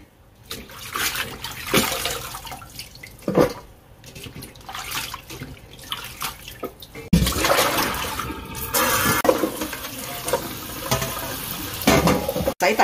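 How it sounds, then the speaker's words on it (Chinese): Melon seedlings (dragon whisker greens) rinsed under running kitchen tap water, a steady close splashing stream that grows louder and fuller in the second half, with no talk. "先将啲龙须菜咧洗一次佢先"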